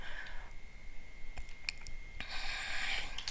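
Someone taps a computer keyboard in scattered, light clicks, a few separate keystrokes and then a short quick burst, faint and close, over a steady background tone.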